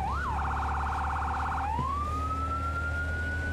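A fire engine's electronic siren in the Firefighting Simulator video game, starting with a rapid yelping warble that shifts into a long, rising wail over a steady engine rumble, loud and close with no talk.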